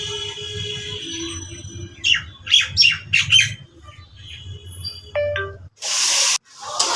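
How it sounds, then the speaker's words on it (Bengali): Birds calling outdoors: a run of sharp squawking calls in the middle, with thinner chirps and a low background hum around them. "কি সুন্দর করে পাখি ডাকতেছে দেখুন"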